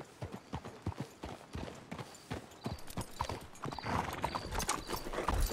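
Horse hooves clip-clop in steady, repeated beats in Red Dead Redemption 2, fairly close and clear, with faint mechanical clatter building toward the end and no speech over them.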